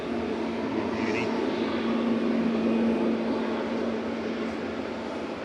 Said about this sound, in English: We've also got the Irini prop coming out, just to add some to the noise